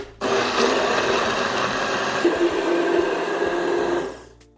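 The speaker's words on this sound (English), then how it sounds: "now I've got my immersion blender, and I'm just going to blend this until it's nice and smooth" An immersion blender whirs steadily at close range for several seconds, blending a strawberry habanero hot sauce, its motor pitch shifting slightly midway before cutting off.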